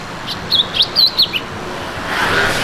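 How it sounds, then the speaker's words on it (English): Birds chirp outdoors at a hotel in Koh Samui, with a few short, bright tweets close by over a steady hiss of ambient background noise. "Birds."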